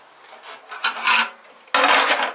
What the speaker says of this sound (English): Okay, so I got the sheathing cut.